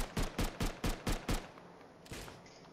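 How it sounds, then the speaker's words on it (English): A gun fired upward in Rust lets off six quick, evenly spaced shots in a tight burst, then one softer shot after a short pause. The shots sound moderately close and distinct, and no voices are heard. "I was just shooting up to let them know to come this way."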